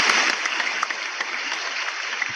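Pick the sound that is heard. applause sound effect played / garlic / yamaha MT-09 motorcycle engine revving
applause sound effect played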